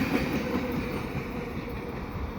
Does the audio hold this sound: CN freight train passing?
yes